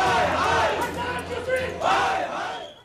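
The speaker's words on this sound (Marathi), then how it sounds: "यावेळी ठाणे रेल्वे स्थानकात भाजपच्या कार्यकर्त्यांनी जोरदार शक्ती प्रदर्शन केलं आणि गर्दी देखील केली होती." A crowd of BJP workers gathered at Thane railway station roars and chants in loud, swelling bursts, a dense mass of raised voices that rises and falls over a few seconds.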